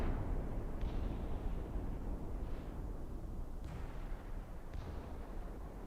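Rear naval turret guns in the battleship combat game Infernal Ocean: Denmark Strait fire four heavy booming shots at irregular intervals over a constant loud rumble of engine and sea noise.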